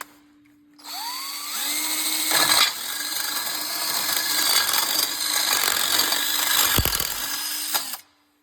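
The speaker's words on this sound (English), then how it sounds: "we were drilling holes up underneath here" A power drill whirs up into holes under a mini jeep body, running loud and continuous for about seven seconds with a brief dip and a clunk midway before winding down.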